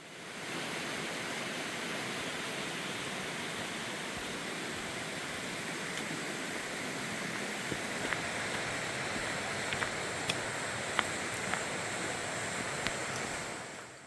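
A forest mountain stream on a trekking path rushes in a continuous, even wash of flowing water, fairly close and unbroken, with faint occasional ticks over the steady roar.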